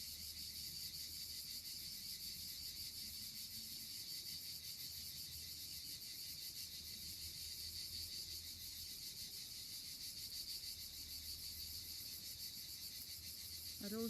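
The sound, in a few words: insects chirping outdoors, crickets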